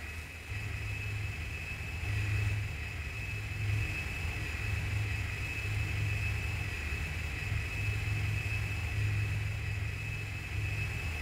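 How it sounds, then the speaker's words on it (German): A steady mechanical drone from a flying drone in the PS4 game Carnivores: Dinosaur Hunt, with a constant low hum and a sustained high whine holding level for the full stretch, no voices. "Nehmen wir mal die Drohne, die holt uns ab."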